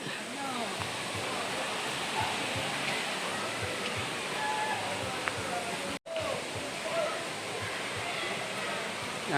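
Ambon Falls in Panguil River Eco Park roars as a steady, dense wash of falling water close by, with one brief dropout midway and talk in the foreground.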